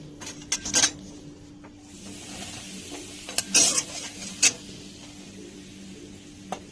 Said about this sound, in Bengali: এবার আমি এই ডালটাকে ঘি ভেজে দেবো।